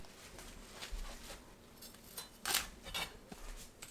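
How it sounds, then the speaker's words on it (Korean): Scissors or a knife snipping the long stems off perilla leaves in a home kitchen, a handful of soft, crisp cuts spaced irregularly, close but faint. "깻잎은 긴 줄기를 자릅니다."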